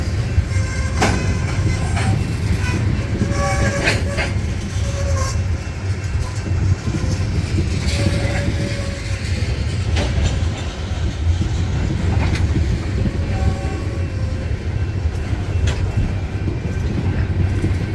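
A Union Pacific freight train rolls past steadily with heavy low rumble and rhythmic wheel clatter, big old box cars at the end, the sound staying loud and continuous throughout.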